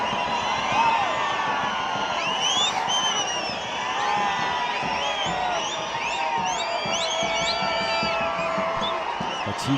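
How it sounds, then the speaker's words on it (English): Large stadium crowd at an AFC Challenge League football match roaring continuously, with whoops, whistles and shouts rising over a dense wall of noise. "Their crowd is riled up."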